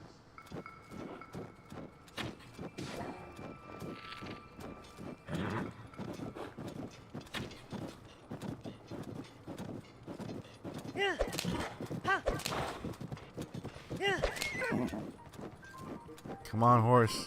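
A horse gallops in Zelda: Tears of the Kingdom, its rhythmic hoofbeats clopping steadily throughout under intermittent talk, with a few sharp in-game effects near the end.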